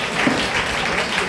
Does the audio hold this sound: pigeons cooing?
no